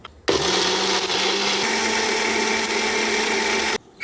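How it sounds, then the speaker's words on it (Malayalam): A mixer grinder whirs loudly at a steady high speed, grinding ginger, black pepper, shallots and garlic, starting and stopping abruptly after about three and a half seconds, close up with no voices. "കുരുമുളക് ഇട്ടു ചെറിയ ഉള്ളിയും വെളുത്തുള്ളിയും കൂടി ഇടാം ഇത് എല്ലാം കൂടി ഒന്ന് അരച്ചെടുക്കണം"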